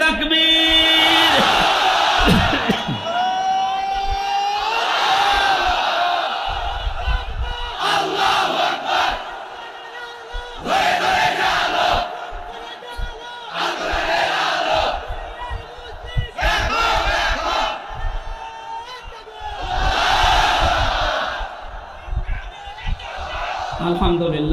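A crowd at an Islamic sermon answers in unison with a chant of takbir, several loud, rhythmic bursts of many voices rising and falling, separated by short gaps.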